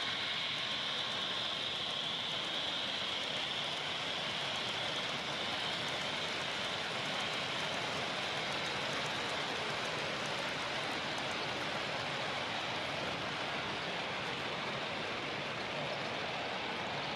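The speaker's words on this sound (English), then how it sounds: "Here comes a Burlington passenger train." A model Burlington passenger train rumbles steadily past with a continuous rolling hiss and clatter, fairly loud and sustained throughout, with no talking.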